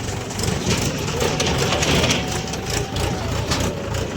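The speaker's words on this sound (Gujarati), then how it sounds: "પાછો ટ્રેક્ટરનો અવાજ આવે" A tractor engine rumbles continuously nearby, a heavy low drone with rattling texture and no talk over it.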